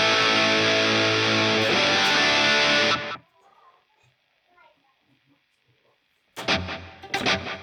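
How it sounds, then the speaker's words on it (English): Electric guitar through a DigiTech GSP1101 with heavy reverb, a loud distorted chord ringing out then dropping to near silence with faint tail and handling noise, before another burst of loud strummed chords. "now only reverb on the right side."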